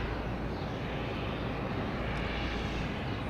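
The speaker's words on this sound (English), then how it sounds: "And so this Delta is heading to Amsterdam. Airbus A330." A Delta Airbus A330 airliner flies past near Boston Logan airport, its engines a steady broad roar that stays even and unbroken throughout, distant and moderately faint, with no talk.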